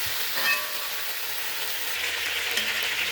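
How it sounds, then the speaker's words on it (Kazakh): Meat for sorpa soup frying in a pan, a steady close-up sizzle and crackle with faint stirring and no voices. "Осылай етті қуырамыз. Етті 10 минут қызарғанша қуырайық."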